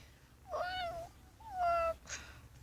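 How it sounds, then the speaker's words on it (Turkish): Two distinct cat meows close by, each drawn-out and rising then falling, followed by a shorter third call, with quiet low hum underneath. "Güzel bir kedi."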